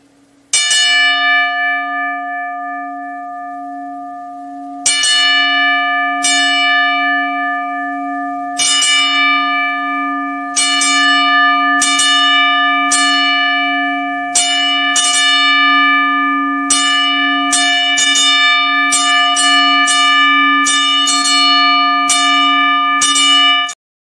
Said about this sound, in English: talk about your 10 times 4 bell salute, and that's what it was right there.